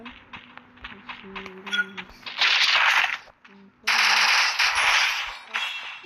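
Gunfire in the mobile battle game Free Fire, bursts of rapid automatic shots in two loud sustained volleys with scattered single clicks and game effects between, a player's voice briefly audible in between.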